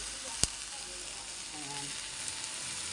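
Garlic frying for chicken adobo, a steady close sizzle in hot oil with a sharp utensil tap near the start and faint stirring scrapes, no speech.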